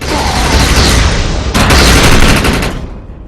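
Overcharged gunfire in the shooter game Defiance: loud, continuous rapid bursts blasting without pause, with a brief break before another sustained volley that tails off at the end.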